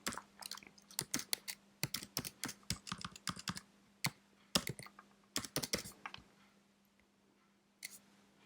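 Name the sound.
typing card details on a computer keyboard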